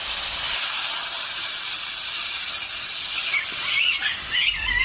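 Water splashed into a hot pan of Bengali katla fish curry with yam sends up a loud, steady hiss of steam that runs unbroken from start to finish, with no talking.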